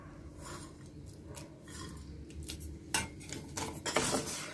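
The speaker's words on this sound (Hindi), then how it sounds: "अब इस तरह से हमें चलाते रहना है, ध्यान रखना है कि नीचे ना बैठे" A spoon scrapes and clinks against a pot while stirring sabudana kheer with pistachio, soft irregular strokes that grow louder and busier toward the end.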